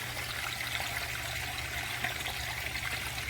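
Dirty water gushes and trickles steadily out of a pond pump's filtration system, a constant close splashing flow with a low hum underneath.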